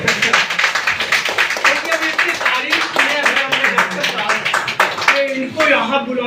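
An audience claps along at a DXN company morning business meeting: a dense run of sharp, close hand claps continues steadily for several seconds, mixed with voices talking over it.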